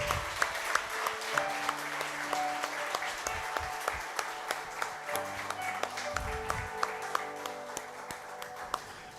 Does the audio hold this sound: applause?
yes